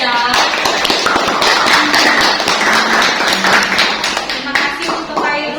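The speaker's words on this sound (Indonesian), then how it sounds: "Oke, beri tepuk tangan untuk teman kalian." A classroom group claps in a dense, fairly loud burst of hand claps, with voices chattering over it throughout.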